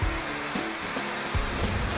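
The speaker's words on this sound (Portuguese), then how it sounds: "Quem jogou o spray no vaso?" An aerosol toilet spray hisses in a steady, close, broadband rush that fills the whole two seconds, with a few faint low knocks underneath.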